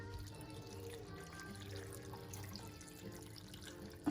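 Water runs steadily into a cooking pot while rice is being prepared, a continuous splashing and gurgling pour at moderate level with no talk.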